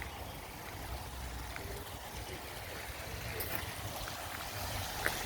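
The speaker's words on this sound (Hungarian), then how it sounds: "És ott van a kis vízesés." A small garden waterfall at the Bahá'í garden in Akko makes a constant, gentle rush of splashing water, heard from nearby as an even wash with a few faint clicks.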